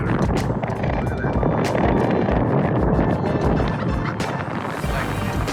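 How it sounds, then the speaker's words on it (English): Strong wind buffets and roars without a break in freezing cold, a dense rushing noise close to the microphone that surges and eases slightly throughout. "It's really windy, so the wind chill is horrendous."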